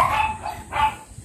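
Dogs barking at feeding time on a small farm, two short barks close by at moderate volume with no speech over them.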